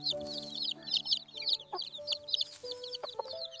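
Many tiny chicks peep rapidly in high, busy chirps, joined by a few low clucks from an adult hen close by.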